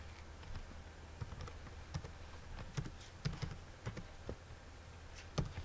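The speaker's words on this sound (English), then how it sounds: "In this case, I'm going to type NLB dot" Computer keyboard being typed on in quick, irregular clusters of light clicks, close and fairly quiet, with no talking.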